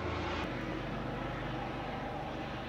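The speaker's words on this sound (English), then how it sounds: "Wait for the helicopter." A steady, loud engine drone with a broad rumble, like a helicopter overhead, holding constant throughout with no voices.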